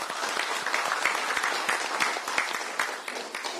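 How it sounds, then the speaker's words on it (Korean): Warm, sustained audience applause fills a Gwangju election campaign rally for presidential candidate Kim Moon-soo, steady and fairly close with no voice on top. "다시 한번 그 뜨거운 박수 부탁드립니다"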